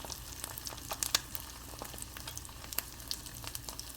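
An egg fries in a pan for huevos rancheros, giving a quiet, even sizzle dotted with small crackles and a few sharper spits, steady for the whole stretch.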